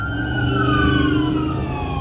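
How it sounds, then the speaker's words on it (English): Emergency vehicle sirens wail on a city street in Ontario, probably fire trucks, with several rising and falling tones overlapping over steady traffic rumble. The sirens sound fairly close and continuous. "you hear how the sirens started immediately"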